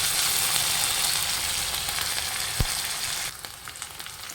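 Onions sizzle in hot oil with garlic and red chilli for dhaba-style dal tadka, a steady crackling hiss, briefly stirred with a single scrape, and the frying softens slightly near the end.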